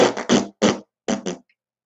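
A voice imitates messy bursts of flatulence, a handful of short wet blasts separated by brief pauses.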